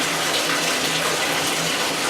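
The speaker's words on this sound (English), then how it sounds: "fill the tub halfway full with hot water" Hot water gushes from a faucet into a bathtub that is being filled halfway, a loud, dense and steady rush of water heard close up with nothing else over it.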